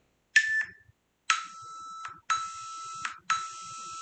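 A workout interval timer sounds four loud, steady electronic tones, each lasting under a second, with short gaps between them. It is close and clear in an otherwise quiet room.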